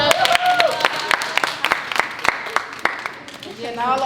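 A cheer team claps at practice, sharp scattered handclaps ringing out near and loud at an uneven rhythm, with a voice speaking over the start and voices chattering again at the end.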